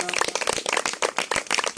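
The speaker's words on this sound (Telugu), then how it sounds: "చప్పట్లు కొట్టి దేవుని నామమును మహిమపరుచుకుందాం" A church congregation clapping hands together in praise of God, a quick, dense patter of claps that is loud and close throughout the short stretch.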